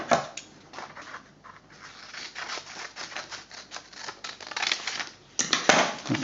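Scissors snip and crunch steadily through paper along a drawn line, close and fairly quiet, in a run of short crisp cuts with a louder burst near the end; no one talks.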